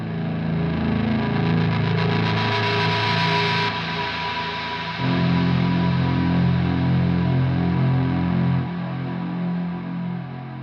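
An electric guitar plays through a gritty overdrive tone, thick sustained chords ringing out loudly with no voices.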